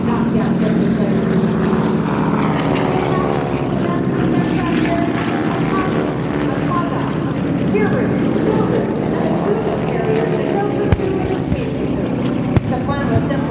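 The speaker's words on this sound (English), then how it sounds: "The B-17s arrive, and like America herself, find themselves in a war that has not yet been declared." WWII-era propeller aircraft roar overhead during a Pearl Harbor reenactment at an airshow, a loud continuous engine drone filling the whole stretch, with an announcer's voice over the public address running beneath it.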